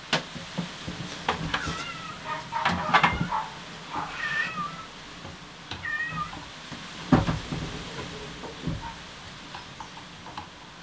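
A house cat meows repeatedly from outside a closed room at home, shut out during soap making; the meows come in clear, drawn-out bursts, slightly muffled and at moderate distance, with short quiet gaps between calls.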